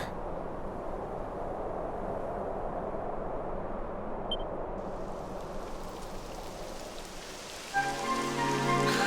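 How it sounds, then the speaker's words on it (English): Steady rain patters and hisses on surfaces in the video game Dragon Quest XI S, even and continuous, before a musical tone enters near the end. "It would have to go and start raining, wouldn't it?"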